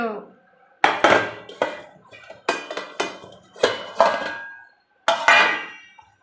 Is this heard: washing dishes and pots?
yes